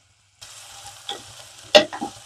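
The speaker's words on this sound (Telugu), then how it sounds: "ఆనియన్ వేగే వరకు ఇది ఉంచేద్దాం ఇలాగే" Onions frying in a pan for a chicken curry: after a short silence a low sizzle begins, broken by a few spatters and one sharp, loud clatter of a spoon or pan near the end, close by.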